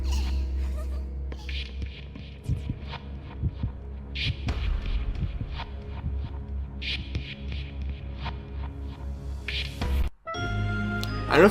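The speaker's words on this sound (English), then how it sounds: "they did a really cool sound effect where it was like you could hear her heartbeat and then it just kind of weakened and then it stopped" A heartbeat from the Corpse Party video game: regular low throbbing thumps under a droning hum and scattered eerie tones, slowing and weakening before stopping, followed by a brief dropout and a resumed hum.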